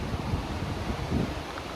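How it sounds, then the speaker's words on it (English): Steady wind buffets the microphone in a constant low rush beside a river, with no voices. "It's a little bit too windy for my taste"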